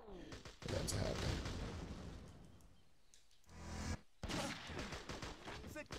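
Gunfire in the video game Total Overdose: dense bursts of rapid shots and booms, loud at first, then thinning out, followed by a short silence and a fresh volley.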